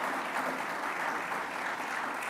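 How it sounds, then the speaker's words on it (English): Audience applause at a Long Island press conference on reducing crime, steady dense clapping filling the whole stretch at an even level with no voices over it. "Let's give them a round of applause as well."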